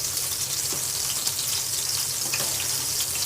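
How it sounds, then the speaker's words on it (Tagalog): Chocolate rice porridge (champorado) boiling in a pot, a continuous bubbling and sizzling hiss with occasional soft pops, close and steady, no talking. "Kumukulo na."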